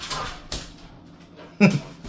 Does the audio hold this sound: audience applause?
no